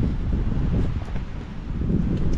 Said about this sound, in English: It's hot and windy.